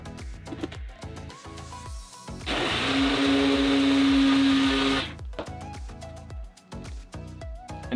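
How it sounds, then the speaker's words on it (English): A blender roars at high speed for a few seconds blending a protein smoothie, cutting through background music before switching off. "we're gonna go ahead, throw this on the blender"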